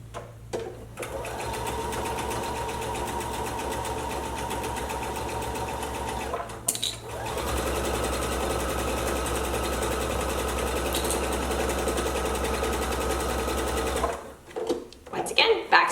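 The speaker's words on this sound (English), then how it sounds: "finish sewing around the curve and then up to the top of the stocking." A sewing machine runs steadily while stitching a Christmas stocking, its close, loud motor hum and rapid needle clatter continuing in two long runs split by a brief pause, then stopping near the end.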